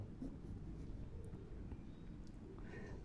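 A pen scratches across paper while a math equation is written out, soft, close strokes running continuously with quiet room noise beneath.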